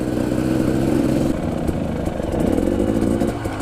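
An enduro motorcycle engine drones loud and close on an off-road training course, holding a rough, throaty rumble that dips and surges as the throttle is worked.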